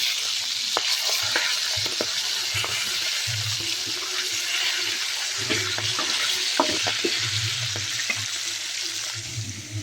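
Pieces of kodua fish frying in oil, a continuous loud sizzle with occasional clinks and stirring scrapes, no voices.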